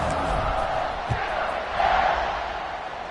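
Stadium crowd roars steadily through a college football video game with Texas Tech playing, a dense continuous wash of cheering that swells briefly near the end.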